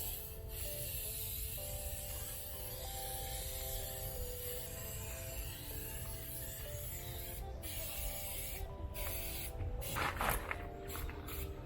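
Steady hissing spray of Plasti Dip being applied to Range Rover Sport wheels, a continuous aerosol rush with brief pauses and bursts, fairly close and alone without talk.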